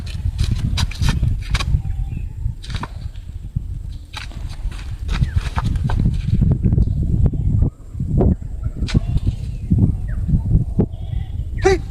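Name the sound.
goat bleating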